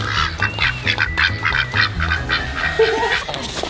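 A voice imitates duck quacks, a loud, close run of nasal honking calls repeated in a steady rhythm.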